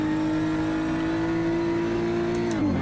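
A race car in a racing game drones at high, steady revs through a corner, a strong buzzing engine tone that holds level then drops sharply as the revs fall near the end, loud and close.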